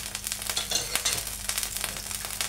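Chicken breast steaks sizzle and crackle steadily in a hot pan as a second batch goes in, with a close, continuous fry and brief sharper pops.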